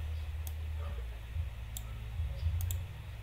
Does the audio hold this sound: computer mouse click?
yes